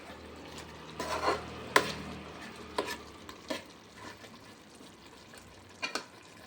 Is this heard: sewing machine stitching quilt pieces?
no